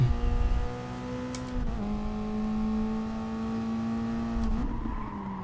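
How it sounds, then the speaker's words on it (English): A race car engine holds a steady droning pitch with a faint turbo whine, dipping briefly before settling, heard from inside or close by. "It's got the funniest sounding turbo, this car."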